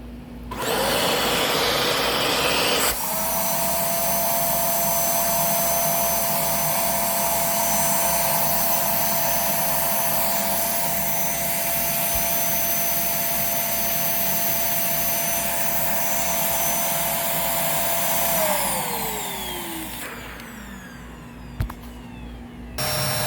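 Kenmore Premalite vacuum cleaner running a suction test, a loud steady roaring whine held close for about twenty seconds, its pitch shifting near the end as the motor winds down and clicks off.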